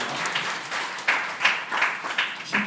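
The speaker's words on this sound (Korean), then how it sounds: "박수 한번 할까요?" Applause from a church youth congregation, a short burst of clapping with a few louder individual claps standing out, moderately near and lively.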